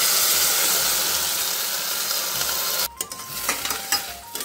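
Asafoetida and dried red chilies sizzle loudly in hot oil, a steady dense frying hiss that breaks off at about three seconds into quieter crackles, scrapes and stirring sounds.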